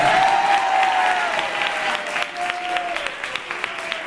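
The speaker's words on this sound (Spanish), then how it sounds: "un fuerte aplauso para Luismi" An audience at a high school graduation awards ceremony applauds an award winner, with loud, sustained clapping that gradually thins out, alongside a faint tonal whistle.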